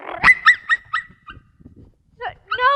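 A dog barks in a quick run of four or five sharp yaps. A short pause follows, then a couple more barks and whiny yelps, close and fairly loud.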